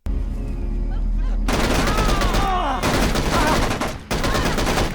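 Rapid AK rifle bursts in the video game Tunnel Rats, loud sustained automatic fire with a brief pause, close and harsh.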